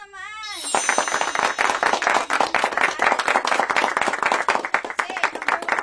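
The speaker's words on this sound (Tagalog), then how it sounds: "Kaya palakpak naman!" Audience applause at a franchise business orientation, a dense patter of many hands clapping that starts abruptly after a brief voice, then runs steady and fairly loud throughout.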